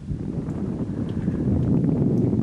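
A light breeze blows over open water in the western Abacos, a low, steady rumbling whoosh of wind buffeting close to the microphone, continuous and unbroken with no voices.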